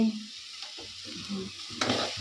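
Greens (shak bhaja) fry in a pan on a home gas stove, a quiet sizzle with a few soft stirring scrapes and clinks close by, no talking.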